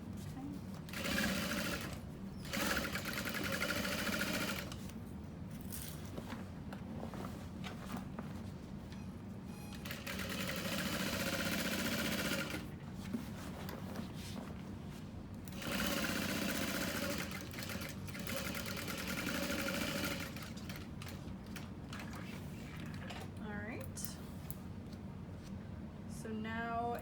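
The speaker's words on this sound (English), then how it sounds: "Make sure you're not sewing through too much." A sewing machine stitches a leather bag in repeated bursts of rapid mechanical whirring, each running a few seconds with short pauses between, and a voice speaks faintly at times.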